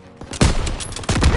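Machine gun fire from an enemy MG position in a World War II shooter, loud, close bursts coming in rapid clusters, set against battlefield noise with a soldier shouting.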